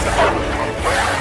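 A man in a Hindi horror-comedy film scene imitates a dog barking, giving short yelping bow-wow sounds close up over a dense, noisy backdrop.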